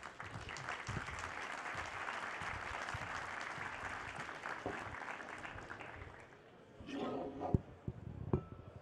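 An audience applauds steadily for about seven seconds at the opening of a first-day conference session, the clapping dense and sustained, then thinning into scattered claps with a brief voice near the end.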